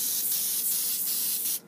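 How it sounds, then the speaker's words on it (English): PAM non-stick cooking spray hisses steadily onto a piece of paper in one continuous close spray that cuts off abruptly. "So we're going to spray PAM"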